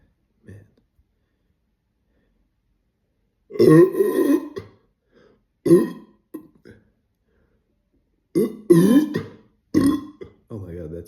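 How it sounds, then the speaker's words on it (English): Several loud, close burps after drinking pear cactus water, coming in separate bursts with quiet gaps between them, the last ones deep and drawn out. "I feel some burps that are stuck."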